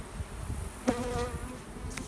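Many honeybees hum around their hive in a dense, continuous drone close by, with a brief click partway through and no talking.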